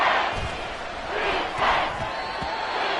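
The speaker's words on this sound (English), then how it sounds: "This crowd doing all they can." A football stadium crowd roars and cheers near the goal line, a broad, sustained wash of noise that swells in a couple of waves over three seconds.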